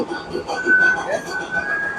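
A train rumbles past on the tracks with a faint metallic squeal, steady and moderately close, with some background voices.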